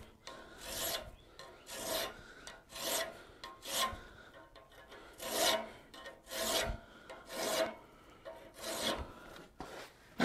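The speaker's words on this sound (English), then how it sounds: "I'm going to do the rough filing for camera, and I'll do a little final filing later on at my own leisure." A hand file rasps over a 150 mm metal Gothic door knocker in rough filing, with about nine even back-and-forth strokes close up and alone.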